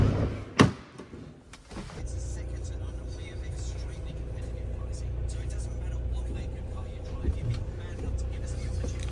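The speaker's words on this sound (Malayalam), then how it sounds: "ഗേറ്റൊക്കെ ക്ലോസ് ചെയ്തു കേട്ടോ" A gate clanks shut with a couple of sharp metallic knocks near the start, followed by a steady low vehicle engine hum that continues to the end.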